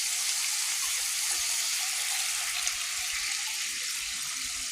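Coconut milk, the first pressing, pours into a cooking pot in a continuous, close liquid rush that holds steady without any talk.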